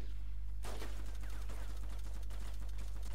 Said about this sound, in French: C'est qui tire?